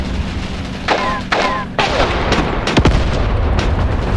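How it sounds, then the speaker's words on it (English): Mortar or tank rounds explode in Graviteam Tactics, a dense series of booms and sharp blasts mixed with whistling shell sounds over a loud, continuous battle rumble. "And I also seem to be taking mortar fire."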